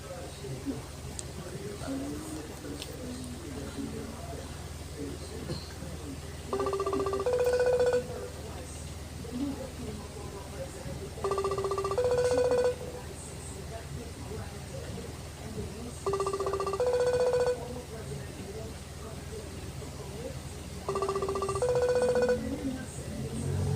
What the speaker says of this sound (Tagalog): So ngayon, tatawagan namin siya ngayon sa IG.